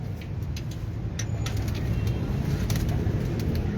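Breeder pigeons cooing on a rooftop loft, a steady low murmur of several birds close by with faint higher chirps and background hum, no talking.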